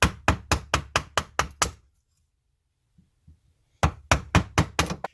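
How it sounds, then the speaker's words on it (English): Wooden carving mallet striking a chisel on a workbench, two bursts of about six rapid, evenly spaced knocks separated by a silent pause, close and crisp. "then you can apply your chisel and your mallet"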